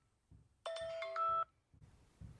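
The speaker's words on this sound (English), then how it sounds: "phone ringing." A telephone rings once with a bright electronic warble lasting under a second, loud and clear over a quiet room in a knife-sharpening workshop, with faint low thumps before and after.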